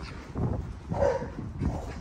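Dogs bark and yip while playing, a couple of close, sharp barks rising over a rough background of scuffling and movement.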